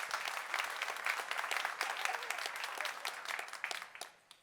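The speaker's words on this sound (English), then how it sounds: "So give yourselves a round of applause." Audience applause fills a hall at a Tableau opening keynote, a dense burst of many hands clapping at moderate distance that swells, holds, then tapers off near the end.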